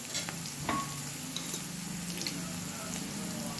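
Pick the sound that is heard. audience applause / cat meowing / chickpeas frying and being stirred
chickpeas frying and being stirred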